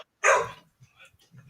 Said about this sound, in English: your dogs have got a lot to say